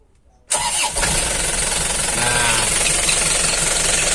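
A diesel Isuzu Elf minibus engine cranks and catches after a brief silence, then settles into a loud, steady, rough clattering idle close by.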